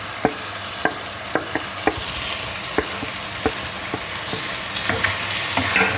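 Okra frying in ghee in a pan, a steady sizzle with scattered sharp pops and crackles spaced through it, close and fairly quiet, no voices.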